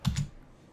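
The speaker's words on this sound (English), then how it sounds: "hitting Control-I on your keyboard" Two quick keystrokes on a computer keyboard pressing Control-I, close and crisp, followed by a short fading tail with no talking.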